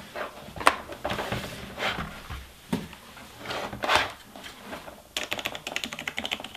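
Keys clacking on a Logitech G910 Orion Spark mechanical gaming keyboard, close up, in uneven bursts of presses, with a faster run of rapid clicks near the end and no talking.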